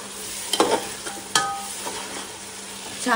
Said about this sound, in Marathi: असं परतून घ्यायचं चांगलं